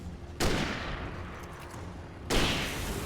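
Gunshots fired at an enemy in the Alan Wake video game, two loud bursts of gunfire close up, one early and another near the end, with a rumbling pause between them.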